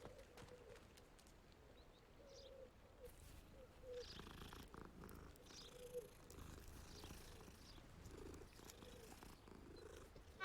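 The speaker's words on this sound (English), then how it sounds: "A cat." A cat in a Hogwarts video game purrs in a faint, steady low rumble, with soft hoof-like clopping and light ambient game sounds around it.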